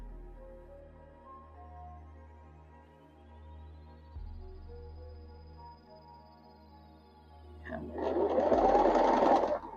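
A sewing machine runs in short bursts while sewing a pumpkin-themed project, its steady mechanical hum rising to a loud, dense whir near the end of the stretch, with no talking over it.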